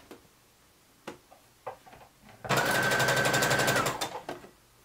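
A sewing machine runs a long gathering stitch around the edge of a sweater in one steady, loud burst of about a second and a half, with a few soft handling knocks before and after.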